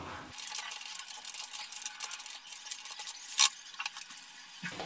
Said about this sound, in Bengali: সব কিছু আমি ভালো করে নাড়াচাড়া করে নিচ্ছি।